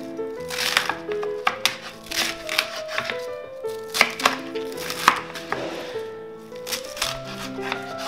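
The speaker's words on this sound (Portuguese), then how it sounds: "A selga também vou picar." Swiss chard is chopped on a cutting board with a knife, giving quick, close, uneven rhythmic thuds and crisp leafy crunches that come in bursts with brief pauses, without talking.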